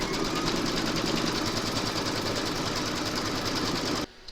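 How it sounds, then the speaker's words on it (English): A home embroidery machine runs steadily, stitching a domino tile in a small 4 x 4 hoop with batting taped over it, giving a close, continuous rapid needle clatter and motor hum that stops abruptly near the end. "Pop your hoop into your machine and stitch round number 2 to secure it."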